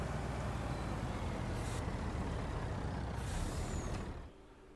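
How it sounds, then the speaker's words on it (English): A truck pulling a trailer in the farming game Farming Simulator 19 gives a steady, loud engine rumble and road noise that runs unbroken, with a short air-brake hiss, then drops off sharply near the end. "Sell them next because I got to move that truck and trailer."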